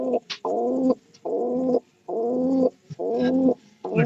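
A pigeon coos close by in a steady rhythm of five drawn-out, throaty calls, each lasting about half a second with short pauses between, clear and alone.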